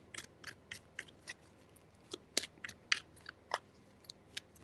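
Tarot cards are shuffled by hand in a quick series of crisp, snapping riffles and taps, close and fairly quiet, irregular in rhythm over a few seconds with no talk.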